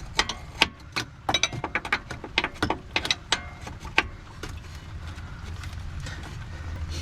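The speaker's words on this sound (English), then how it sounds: "I'm gonna loosen it up with my wrench first." Wrench ratcheting on a nut of a BMW 525i front control arm: a run of sharp metallic clicks in uneven bursts close up for several seconds, then fading into quieter low rumble.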